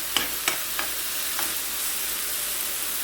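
Onion and carrot being stirred in a frying pan, with a few scraping strokes early on over a steady, soft sizzle that carries on alone with no talk.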